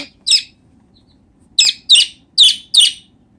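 Sharp high chirps from baby chicks in an incubator, one early then a quick run of four, close and clear over a faint low background hum.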